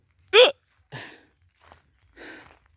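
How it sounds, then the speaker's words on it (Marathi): A man working in a field gives a sharp hiccup, followed by a few quieter breathy sounds and short, faint noises spaced out in near silence. "उचकी पण लागली मला हिचकी"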